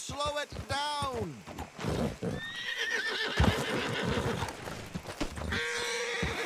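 A horse neighs and whinnies loudly up close in Red Dead Redemption 2, a few rising and falling calls mixed with hoof clip-clop, while people talk over it.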